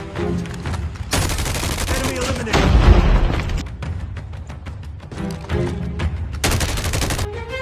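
Gunfire in Call of Duty Mobile, with loud bursts of rapid shots and booming impacts coming in several volleys, one heavier low blast near the middle, and quieter stretches between them.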